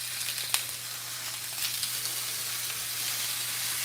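Peppers and onions frying in a pan, a soft steady sizzle with a faint low hum beneath and a couple of brief clicks or spatters, fairly quiet and unbroken by speech.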